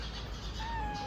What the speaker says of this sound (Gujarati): મસ્ત મજાની બિલ્લી